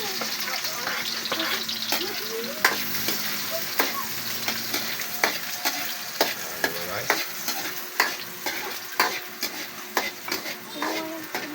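Garlic and onion sauté in a pan, the oil sizzling steadily while a spatula scrapes and knocks against the metal in repeated strokes.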